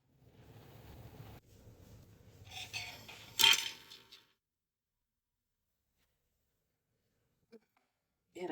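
A pot of boiled turmeric is lifted off a stove: a low steady roar, then one sharp metallic clank of the vessel, followed by near silence broken by a couple of faint taps.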